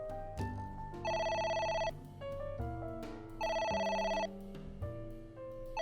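A telephone rings in the video game AI: The Somnium Files, its electronic bell tone repeating in two loud bursts over steady background game music, with no talking.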